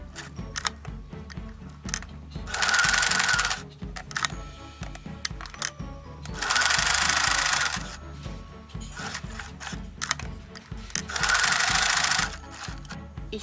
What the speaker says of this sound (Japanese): 違う方法でミシンで押さえていこうと思っています。 では縫っていきます。